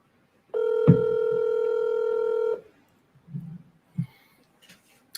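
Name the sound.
telephone ringing during a cold call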